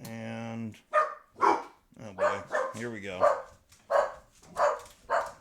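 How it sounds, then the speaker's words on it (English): Dogs bark in a workshop during titanium heat anodizing work, a series of sharp, fairly close woofs in irregular bursts, with someone speaking briefly at the start. "So sorry about the dogs barking"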